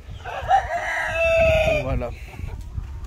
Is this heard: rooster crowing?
yes